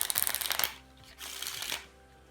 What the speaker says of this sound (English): I'll allow the spectator to shuffle up the cards as much as they want to